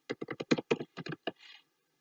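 Crisp, rapid keystrokes on a computer keyboard while filling in a Gmail sign-up form, about a dozen quick close taps in an uneven burst, then a soft trailing rustle, with no talking.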